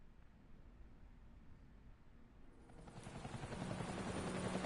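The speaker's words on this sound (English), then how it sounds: "the helicopter is flying around" Helicopter flying around on a stormy night in the video game Batman: The Telltale Series, a faint rotor drone that swells louder and closer toward the end.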